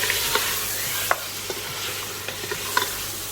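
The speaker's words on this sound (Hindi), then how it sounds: "अब हम इसके अंदर गोश्त डाल देंगे।" Meat (gosht) is fried with garlic and ginger, a dense, loud sizzle running throughout while a spatula stirs, tapping and scraping the pan in scattered clicks.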